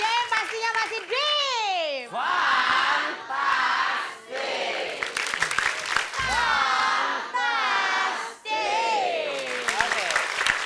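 Studio audience at an Indonesian comedy show clapping and cheering in sustained bursts, with loud presenter voices and shouts over the applause throughout.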